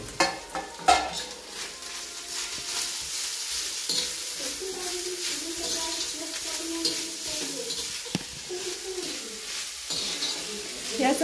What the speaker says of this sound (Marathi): हे असं परतवून घ्यायचं एक 5 मिनिटं.